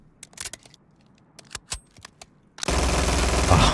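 FTAC Siege gunfire in Call of Duty: Modern Warfare begins as scattered clicks and single sharp cracks, then breaks into a loud, continuous stream of rapid automatic fire to the end.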